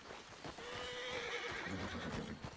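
In Red Dead Redemption 2, a horse gives a loud, shrill whinny, with a few hoof clip-clops around it and no talking.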